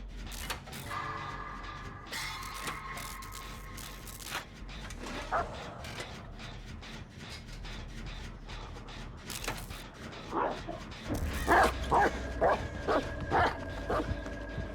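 A dog in the Dead by Daylight horror video game barks and yips repeatedly in short bursts, mixed with mechanical clanking and ratcheting game sounds, fairly close with no talking.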